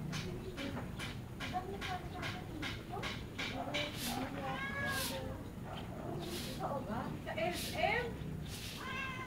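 Several repeated cat meows, fairly close and distinct, rising and falling in pitch, mixed with people chatting and background noise.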